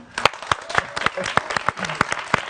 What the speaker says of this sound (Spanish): Un aplauso aquí para los chavos de la Facultad de Derecho.